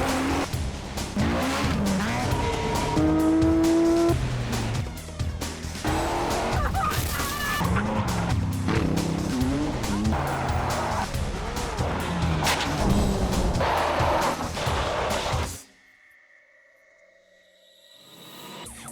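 Rally cars at the Targa New Zealand motorsport event rev hard and loud up close, with engines roaring and tyres squealing over one another, before the noise suddenly drops away to near quiet.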